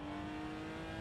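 A loud race car engine from a racing video game holds a steady, droning note for the whole moment, with no talk over it.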